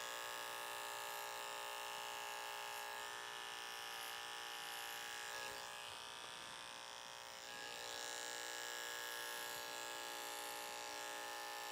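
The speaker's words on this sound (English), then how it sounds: "And don't be afraid to go slow with the clipper." Electric hair clipper cutting curly hair, a steady faint high buzz running throughout with a slight dip in the middle.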